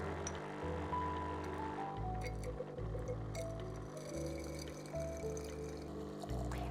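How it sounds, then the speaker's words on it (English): A Smeg EGF03 manual espresso machine's steam wand dispenses hot water, a faint pouring trickle with light glassy clinks over a pulsing pump hum, running steadily at close range. "Turn the steam lever clockwise to meet the water droplet icon and dispense water for 15 seconds."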